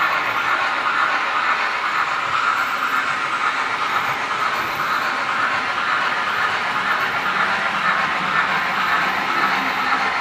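An HO scale model steam-powered freight train runs on a Rock Island layout during an operating session, a continuous rolling rumble with clickety-clack and faint hiss holding steady and loud throughout.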